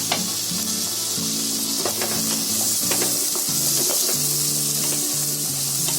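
Onion and capsicum for pasta masala sizzle steadily in a pan, with a constant close frying hiss and occasional clinks and stirring scrapes.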